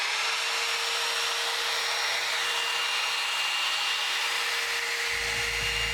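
A steady, loud blowing hum from a hair dryer, running continuously without any talking.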